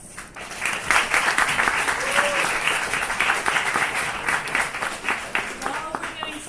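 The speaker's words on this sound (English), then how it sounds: "Let's do a quick round of applause." Audience applause for the next presenter at a hot indoor tech project presentation event in Seoul, a steady dense wash of clapping from many hands lasting several seconds without a break.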